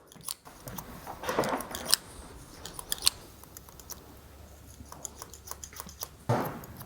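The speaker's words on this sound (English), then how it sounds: "Just want to use the scissors to perfect the blend" Scissors snip close up cutting hair during a short back and sides haircut, crisp metallic clicks in irregular clusters, with a few quiet pauses between runs of cutting.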